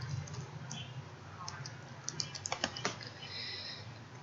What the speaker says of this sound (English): come here and type penicillin